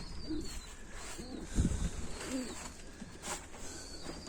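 Soft pigeon coos repeat at intervals, low and close, over steady wind noise and an occasional thump.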